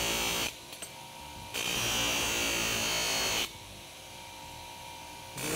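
A hand rasp blends the rolled toe of a metal horseshoe, a continuous, close, loud scraping that pauses briefly between strokes, with no voices.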